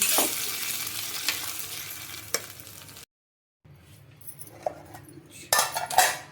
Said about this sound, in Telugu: చట్నీలోకి అయితే పోపు కూడా వేసేస్తున్నామండి